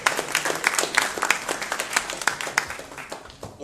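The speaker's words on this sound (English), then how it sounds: "I would say make an applause" Scattered clapping from a small conference audience, a burst of uneven claps with sharp individual hits rather than a full roar, fairly close and moderately loud, thinning out toward the end.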